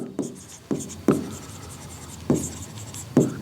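A pen writes a handwritten accounting journal entry during a class lesson on share issues, giving five brisk scratchy strokes at uneven intervals against quiet room tone.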